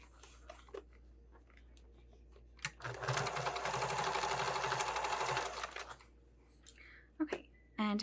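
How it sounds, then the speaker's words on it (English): A sewing machine runs steadily for about three seconds while stitching fabric along a marked line for a sling, close and clear, with a few quiet clicks before and after. "And I'm going to sew right along that line."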